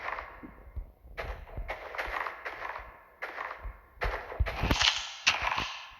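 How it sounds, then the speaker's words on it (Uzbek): Two firecracker bombs set off together, testing blocks, burst in a series of sharp, loud cracks and bangs at irregular intervals, close by, with a brighter crackling burst near the end and no speech. "Endi mana bu birdaniga ikkalasini portlatamiz."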